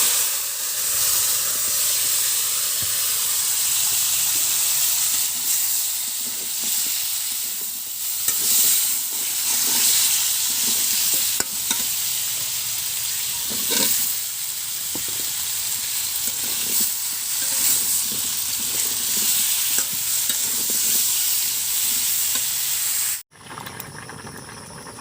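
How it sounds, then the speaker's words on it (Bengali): Curry bubbles and hisses in a clay pot on a clay stove, a steady close simmer with occasional pops and soft stirring, ending in a brief cutoff. "তরকারিটা এই যে বলক উঠে এসেছে"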